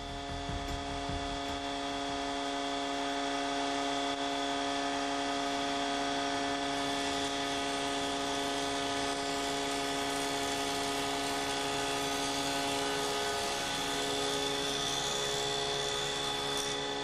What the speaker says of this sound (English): The thicknesser is similar to the circular saw and jointer.